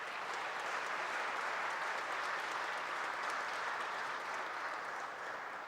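Audience applause at a city council tribute to Afro-Brazilian culture, a sustained, dense round of clapping from a large crowd holding a steady level before easing slightly at the end.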